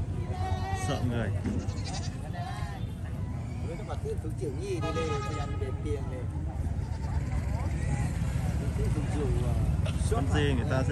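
Goats bleating repeatedly at a bustling highland market ahead of Tet, several wavering calls rising over a dense din of crowd chatter and livestock.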